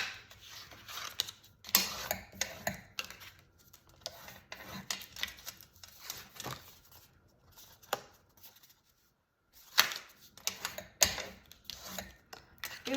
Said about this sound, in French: à l'aide de mon plioir, je vais marquer les plis sur la base